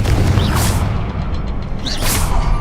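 A Confringo fire spell blasting in Hogwarts Legacy, two loud booming whooshes a second and a half apart over a rumbling low roar.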